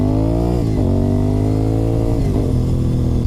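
Honda RC51 motorcycle engine revving hard and close, a loud raspy roar with pitch rising and dropping as the throttle is blipped several times, no voices.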